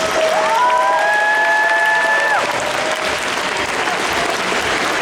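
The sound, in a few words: audience applause at a cosplay jury presentation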